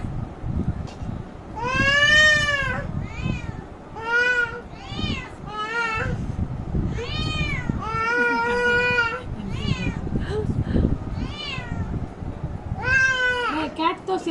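A cat meows repeatedly in a home kitchen, a string of drawn-out, rising and falling cries spread across the stretch, with people talking and moving around underneath.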